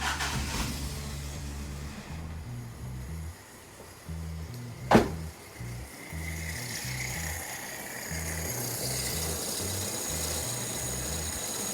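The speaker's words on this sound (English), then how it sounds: "I just got to throw the battery in here, and then we're going to try to start this up." A 1985 Toyota pickup engine cranking after sitting seven years, with rhythmic starter churning in repeated bursts separated by pauses, plus a sharp click midway and a rising whine near the end.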